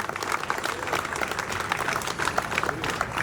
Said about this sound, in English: can we have a big round of applause for Legato, everyone?